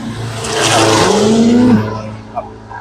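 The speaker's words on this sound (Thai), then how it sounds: "รถแลนผ่านตลอด ครับต้องขออภัยในเรื่องของเสียงแน่น้อยหนึ่งนะครับ" A vehicle passes close by on a road, its engine noise swelling and then fading away, with a faint tire whine as it goes.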